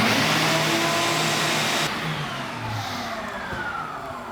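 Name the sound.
shop vac switched on and off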